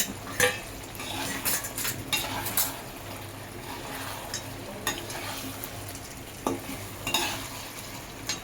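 A spoon stirs vegetables and fried paneer into cooked rice in a pan, giving soft scraping and clinking strokes over a faint sizzle, close by and irregular.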